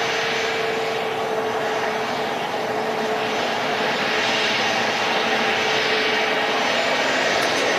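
A Sun Air Dornier airliner at Manchester Airport produces a steady, loud engine roar with a sustained tonal hum, continuous throughout with no talk.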